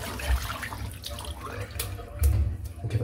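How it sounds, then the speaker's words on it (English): Tap water runs over a shaving brush being rinsed in a sink, a steady close splashing wash with a few heavier gushes. "So I'm just going to give it another quick rinse"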